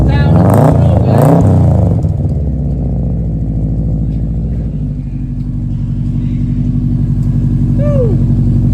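A Subaru Legacy with a Supra-style exhaust revs loudly up close at first, then drops into a deep, throbbing idle rumble that carries on steadily, with brief voices at the start.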